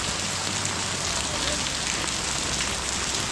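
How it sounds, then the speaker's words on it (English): Pouring monsoon rain at Yak Lodge on the Everest base camp trek in Nepal in October, a steady, dense broadband hiss that holds even and unbroken throughout. "Pouring down rain."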